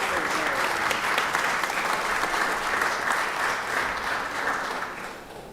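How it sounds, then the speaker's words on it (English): An audience in a state legislative session chamber claps for a guest in the gallery, a full steady round of applause that stays loud and even before tapering off slightly at the end. "Can we give her a round of applause real quick?"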